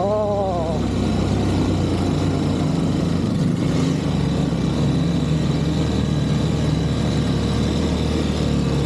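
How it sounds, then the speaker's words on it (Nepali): A motorcycle engine drones steadily and loudly throughout, straining uphill on a dangerous mountain road to Manang, with wind rushing past and a voice briefly audible at the start. "मेरो बाइकले फेरि खासै उकालो तान्दैन"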